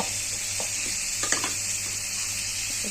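Onions and green chilies frying in a kadai give off a steady sizzle with a constant bright hiss, broken by a few soft clinks and stirring scrapes near the middle.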